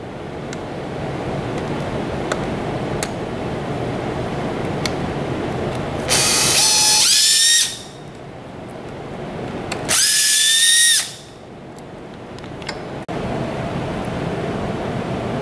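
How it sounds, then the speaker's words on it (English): A power screwdriver whines in two short, loud high-pitched runs, backing Phillips head screws out of a connector junction box cover on a ZeroG 3.0 massage chair, over a steady background hiss. "remove the four Phillips head screws that secure the connector junction box"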